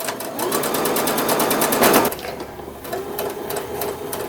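A sewing machine stitches fabric for an envelope pillow, its steady rapid run loud and close for about two seconds, then it stops and the needle gives a few slower, quieter taps.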